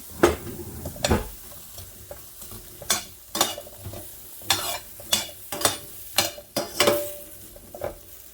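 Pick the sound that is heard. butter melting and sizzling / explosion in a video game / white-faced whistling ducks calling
butter melting and sizzling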